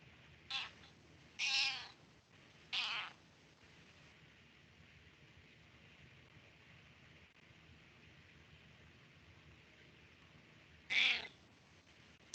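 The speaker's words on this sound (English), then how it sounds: "Sorry, that's my cat." A cat meows four times indoors at a moderate distance. The short, sharp calls stand out clearly against a quiet background hiss, with three coming close together early and a lone one much later.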